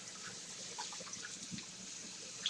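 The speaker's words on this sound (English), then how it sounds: "we're just going to wash our hands here for a second." Tap water runs steadily into a sink while a child's hands are washed under it, a soft continuous splashing at low level with faint clatters in the background.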